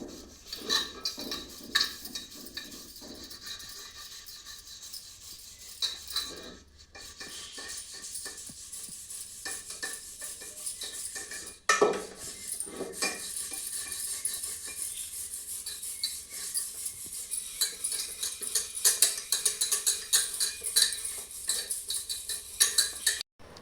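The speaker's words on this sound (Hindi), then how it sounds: "यहाँ पर शरबत बन रहा है, तो प्रखर जो है शरबत बना रहे हैं" Sherbet being stirred in a home kitchen, metal utensils clinking and scraping against a vessel in steady, uneven bursts at close range, with occasional louder knocks.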